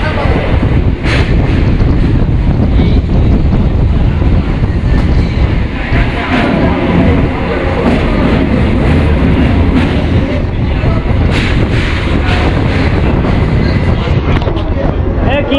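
A Panskura local train crosses the Rupnarayan river bridge at Kolaghat, heard from inside the coach as a loud, continuous rumble with heavy wind buffeting the microphone.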